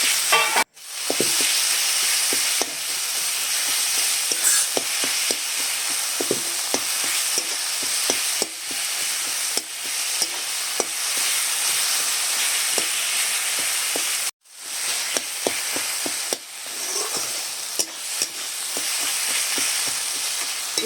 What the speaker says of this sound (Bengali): প্রথমে আমি রসুন বাটাটা দিয়েছি দিয়ে দেখো ভালো করে কষে নিচ্ছি